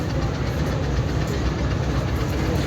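Train coaches roll into a station in Lahore, a continuous low rumbling and clattering with heavy engine drone, steady and fairly close throughout.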